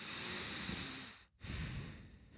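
A voice imitates slow, deep, even breathing: a long drawn breath, a brief pause, then another, close and soft.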